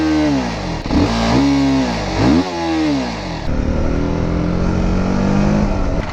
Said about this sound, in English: See that high revving nature of the bike